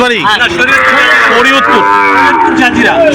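Cattle moo loudly and repeatedly at a livestock market, with several overlapping calls close by and continuous crowd noise beneath them.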